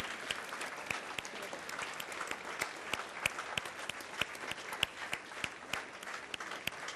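Steady audience applause at a school musical performance, many hands clapping in a dense, continuous patter with no voices, fairly even in loudness throughout.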